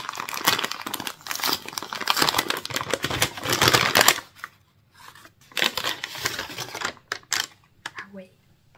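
A small paper envelope is torn and crinkled open in close, loud rustling bursts for about four seconds. Sparser crinkles and handling sounds follow after a pause.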